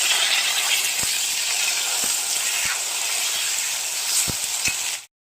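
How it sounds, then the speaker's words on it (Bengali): Chopped tomato and green chili sizzle and fry in a pan, a loud steady hiss with a few sharp pops and stirring clicks, alone with no voices, cutting off abruptly near the end. "টমেটো কুচি আর লঙ্কা দিয়ে বেশ কিছুক্ষণ ভাজার পর"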